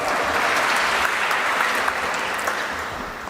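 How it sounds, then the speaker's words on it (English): An audience at a commencement ceremony for a master's program in political leadership and governance claps in sustained, even applause that fades slightly toward the end, with no voices over it. "Please put your hands together and welcome with a big round of applause Dr. Rahul V. Kara."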